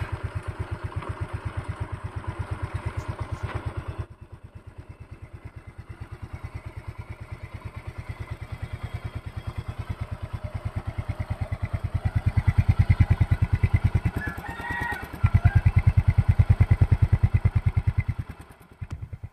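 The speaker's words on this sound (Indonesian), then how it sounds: "Sekarang saya mau coba hidupkan mesinnya." A Yamaha Mio M3 scooter engine putters steadily at idle with a rapid, even beat, rising briefly in revs before settling back down.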